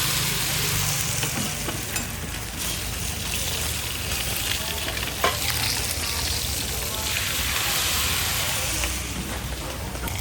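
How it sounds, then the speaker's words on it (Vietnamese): Bánh xèo with cá kình fish fries over a fire at a village market stall in Huế. The batter sizzles and crackles loudly and without a break throughout, with some stirring and scraping sounds. "Lửa hừng hực bên dưới, hơi nước bị giam cầm bên trong, làm cá chín mềm từ ruột"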